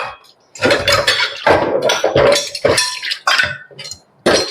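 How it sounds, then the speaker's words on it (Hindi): Bowls and glasses clinking and clattering as they are gathered up by hand: a quick, close series of bright ceramic and glass knocks and chinks, irregular and loud, with brief silences between handfuls. "अब मैं यहाँ से बाउल्स ले लेती हूँ, ये सब ग्लास ले लेती हूँ।"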